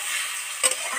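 Spices such as chili, turmeric and coriander powder are stirred while frying in a pan, giving a steady close sizzle with a brief scrape of the spoon midway.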